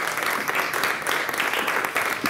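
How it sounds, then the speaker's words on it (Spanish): A studio audience claps warmly to welcome a surgeon guest onto a talk show, a brief, even burst of applause at moderate loudness with no talk over it. "Un fuerte aplauso"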